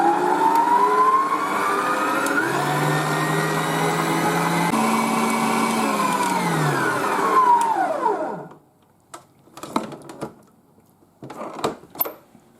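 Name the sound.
electric mixer whisking rum baba dough at high speed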